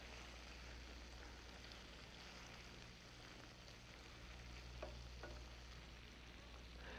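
Sweetbreads sautéing meunière in butter in a pan give off a steady, quiet sizzle and hiss, with a couple of faint clinks partway through.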